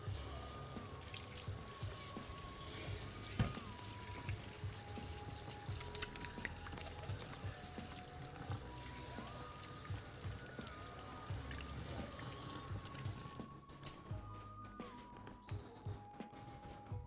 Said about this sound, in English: then I'll wash my hands one last time